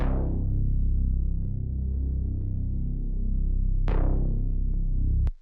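Deep Reese bass from the Cosmic sample pack in a house remix, a thick, low sustained tone that holds for several seconds, then is struck again and rings before cutting off abruptly.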